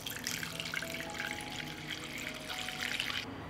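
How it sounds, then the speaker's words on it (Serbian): Water pours steadily into a cooking pot lined with a cloth and holding jars for pasteurizing, a close, continuous splashing rush that cuts off at the end. "I nalit ćemo vodu do visine poklopca"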